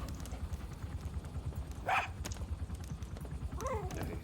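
D-Dog, a puppy in Metal Gear Solid 5, lets out a single short yip of a bark over steady low game ambience, and a brief whine follows near the end.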